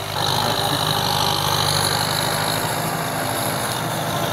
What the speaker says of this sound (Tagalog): Bagong-bago tong traktora ng co-op namin guys.